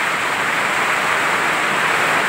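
Heavy rain falls as a thick, unbroken rush, loud and near, smooth like a waterfall, with nothing else standing out.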